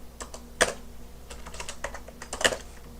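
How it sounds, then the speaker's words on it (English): Quick bursts of typing on a computer keyboard while entering a Python command in a command shell, close and clear, a short uneven flurry of key clicks with two sharper strikes and no talk. "let me come back over to a command shell and type in Python"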